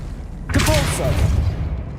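A Depulso force spell cast in Hogwarts Legacy, a sudden loud whooshing burst with a thump that trails off over about a second and a half.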